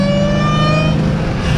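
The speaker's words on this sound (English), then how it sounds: "I'll just get on the throttle a little bit" A Dodge Hellcat with a loud aftermarket intake revs briefly, its close, loud engine note overlaid by a steady high-pitched whine for under two seconds, with no voices.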